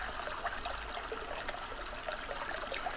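Running water trickles softly and steadily in a quiet natural setting, a faint continuous babble with small splashing variations and no voices.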